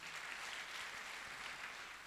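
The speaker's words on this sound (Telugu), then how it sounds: "చప్పట్లు కొట్టండి ఒకసారి." A church congregation at an evangelical anniversary service applauds, a steady wash of clapping that sounds fairly distant and faint, with no voices over it.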